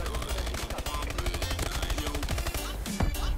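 Dense automatic gunfire fills the match in Call of Duty: Advanced Warfare, with rapid, loud bursts of shots overlapping without pause and a sharper blast near the end.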